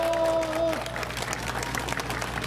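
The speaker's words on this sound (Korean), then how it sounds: "여러분 크게 한번 박수 쳐주십시오." Crowd applauding at an outdoor Korean political rally for a Seoul mayoral candidate, a soft, steady wash of clapping heard at a distance after a ringing tone fades at the start.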